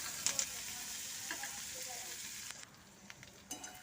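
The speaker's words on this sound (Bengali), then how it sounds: "এখানে পেঁয়াজগুলো একটু নরম করে ভেজে নেব" Onions sizzle steadily in hot oil in a home kitchen pan while preparing a Bengali thali, a continuous bright hiss with a few small utensil clicks, the frying dropping slightly in level partway through.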